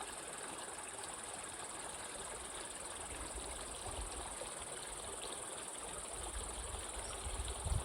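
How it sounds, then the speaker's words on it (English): A creek babbles through forest along Mule Creek Trail near Woodland Park, Colorado, as a soft, constant rushing wash, faint and steady, with insects chirping over it. "you can hear the babbling of the creek"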